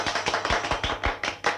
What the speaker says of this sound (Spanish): Pido para ellos un caluroso aplauso.